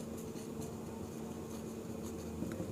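A pen or marker writes the word dyspnea during a medical lesson, producing faint, steady scratching strokes with small bursts over a low background hum, with no talking.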